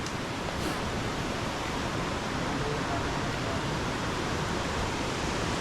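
A strong river current rushes past a fishing spot on the Kalong River, a steady, loud broadband roar of flowing water that fills the whole clip without letup.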